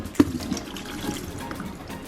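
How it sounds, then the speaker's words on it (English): Old green coolant drains out of a car's cooling system, a soft steady liquid trickle and splash after a brief knock at the start, close and fairly quiet. "you're about to see all the old coolant come out."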